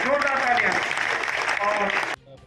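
Loud applause at a Meerut official event, dense clapping running under a speaking voice before cutting off abruptly near the end.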